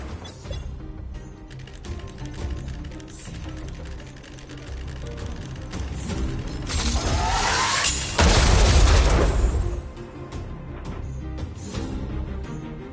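Explosion in the video game Honkai Star Rail, a heavy booming blast with a bright burst swelling around the middle, set amid game effects and character voices talking.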